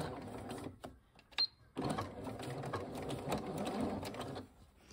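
A sewing machine stitches an invisible zipper in close, rapid mechanical bursts, pausing briefly before running steadily again.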